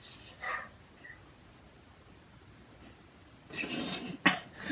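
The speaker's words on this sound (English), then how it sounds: "Oh, because you're coughing" A short cough early on, then after a pause a burst of harsh, loud coughing and throat noise near the end.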